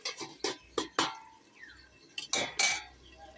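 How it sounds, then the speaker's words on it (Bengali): A metal lid is set onto a cooking pot holding a cauliflower dish, a series of close clanks and clatters in two short clusters with a quiet pause between them. "আবার ঢাকা দিয়ে দিলাম"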